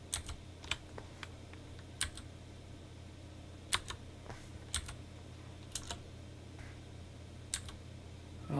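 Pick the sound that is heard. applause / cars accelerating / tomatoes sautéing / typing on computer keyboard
typing on computer keyboard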